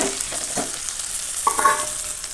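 Fried potatoes that were boiled earlier drop into a pan of cooking chicken for biriyani, giving a few soft thuds and scrapes over a steady close sizzle of oil.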